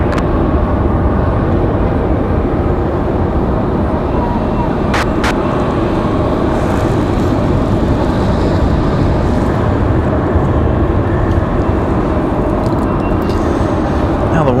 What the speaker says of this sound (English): Nice runway run though, as Southwest from Fort Lauderdale touches down.